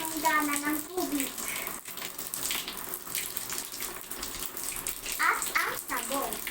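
Water from a tap running into a washbasin to fill it for laundry: a steady close gush and splash, with brief voices near the start and end.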